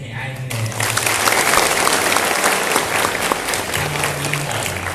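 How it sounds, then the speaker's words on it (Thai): Audience applause for three guests at a technology and IT careers event, a dense, loud burst of clapping that carries on steadily with voices murmuring underneath. "ขอเสียงปรบมือให้ไอ้ทั้งหมด"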